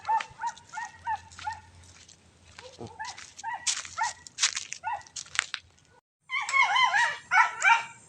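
A dog barks and whimpers in a series of short, yipping calls at close range, pausing briefly before a louder burst of barking near the end, with no talk over it.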